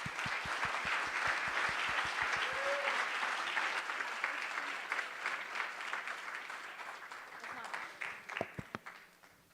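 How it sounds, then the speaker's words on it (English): Conference audience applauding a panel at a food security event: loud, rapid clapping from a crowd, a few sharp individual claps up front, gradually thinning into scattered claps near the end. "another round of applause for that incredible panel"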